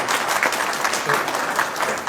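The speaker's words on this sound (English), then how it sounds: "give her a round of applause for being here and doing such a wonderful job" An audience at a public input session claps steadily for the moderator, a dense, even applause sustained through the short stretch without voices.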